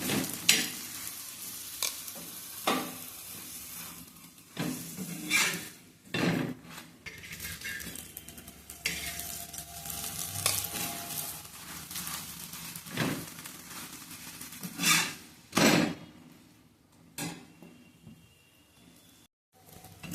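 Aloo paratha frying in ghee on a pan, soft continuous sizzling broken by repeated scraping and clinking of a spatula against the pan, close and fairly quiet.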